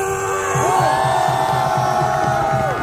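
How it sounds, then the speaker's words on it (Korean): Massed shouts and cheers from a big anti-impeachment rally crowd, a continuous loud roar of voices with rising whoops, carried over a steady pulsing drum rhythm. "20대 앞으로 함성!"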